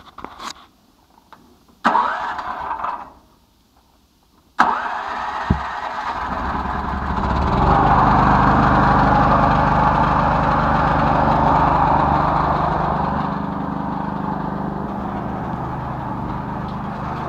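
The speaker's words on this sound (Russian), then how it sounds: "Генератор Green Power, газовый," A Green Power gas generator is pulled and started with a couple of short bursts, then fires up and runs at a steady, loud, droning hum that rises slightly before settling.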